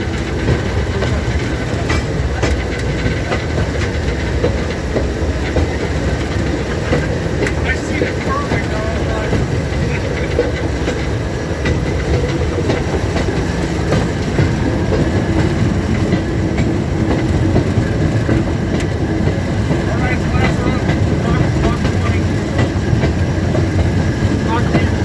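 A small Timber Heritage Association railway speeder rolls along the rails beside a bay, with a steady loud engine drone and rattling wheel noise throughout, no voices.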